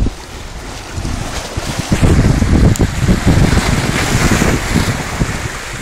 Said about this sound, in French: Vous voyez, ces vagues sont souvent mortelles contre ces rochers de ce type.